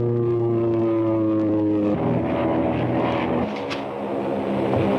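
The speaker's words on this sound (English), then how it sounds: "There's another plane coming at us" A propeller airplane drones loudly and steadily in a 1937 film serial, its engine hum shifting pitch as it passes, with no speech over it.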